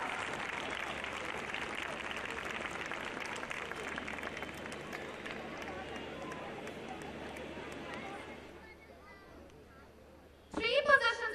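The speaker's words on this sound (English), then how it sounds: "Dear parents, we need your blessings and applause." Parents applauding at a school annual day prize ceremony, steady moderate clapping from the crowd for about eight seconds that fades out, followed by a short burst of louder sound at the end.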